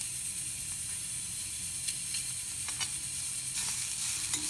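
Grated coconut and curry leaves sizzle hard in a hot pan for a chickpea curry, a loud, steady hiss with occasional sharper crackles and bursts close by.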